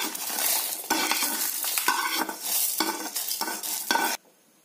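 Roasted masala sizzles and fries in a pan, with a spoon stirring through it in repeated scraping strokes; close and steady for about four seconds, then it cuts off abruptly to near silence.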